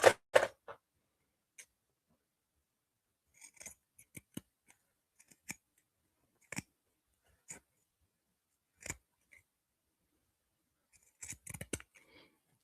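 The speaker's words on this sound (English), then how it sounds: "next I'm going to use my pinking shears" Pinking shears cutting through fabric lining for a zipper pencil pouch, a sparse series of quiet crisp snips and clicks at irregular intervals, close and faint against near silence, with a small cluster near the end.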